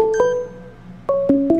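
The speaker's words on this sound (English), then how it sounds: "No, I'm not answering that phone call." A phone announces an incoming call with a series of bright electronic ding tones, a few clear melodic chimes with sharp onsets and ringing tails, loud and close.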